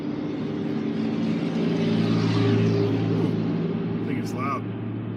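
Road traffic streams past on a busy street, heard from inside a car during a driving show. A steady, loud, close rumble of engines and tyres holds throughout, swelling slightly midway, with a brief higher whine near the end.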